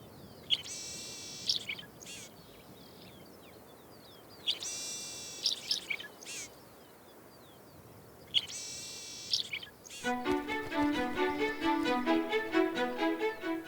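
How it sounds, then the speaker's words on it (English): A mourning sierra finch calls in the Chilean desert, with bright repeated chirping phrases over an open, quiet background, then a busier stretch of overlapping bird song. "The mourning Sierra finch, one of the most common bird species in Chile, fills the desert with its characteristic call."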